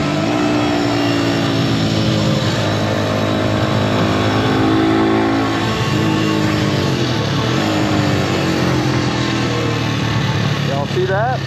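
A Kawasaki Z200 motorcycle roars past at speed in a street race as its rider brakes, a loud continuous engine drone with shifting pitch and another vehicle revving near the end, with voices talking underneath.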